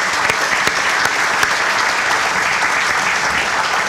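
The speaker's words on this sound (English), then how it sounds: "Let's give all these great Pirates a big round of applause" A crowd at a college stadium renovation groundbreaking claps continuously, a dense, loud and steady applause with no talk over it.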